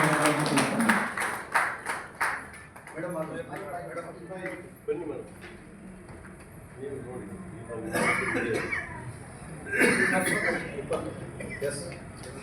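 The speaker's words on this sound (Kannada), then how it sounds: "ತಮ್ಮೆಲ್ಲರ ಜೋರಾದ ಚಪ್ಪಾಳೆ ಮೂಲಕ ನಾನು ಗೌರವ" Clapping at a felicitation event, with a burst of quick claps at the start and later swells of crowd applause mixed with talking voices throughout.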